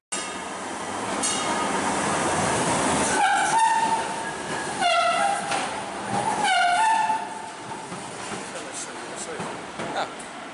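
A tram in Charleroi, Belgium rumbles along with rhythmic clatter, a few high bell-like squeals and tones cutting through, then the noise eases off toward the end.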